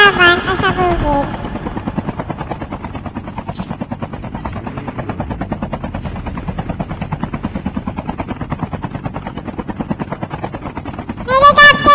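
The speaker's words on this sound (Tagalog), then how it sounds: "Ayun, may helicopter na kalaban pasabugin." An enemy helicopter in a battle-royale video game thrums loudly and steadily overhead, its rotor chop pulsing in an even rhythm for most of the stretch, with brief bursts of other game sounds at the start and end.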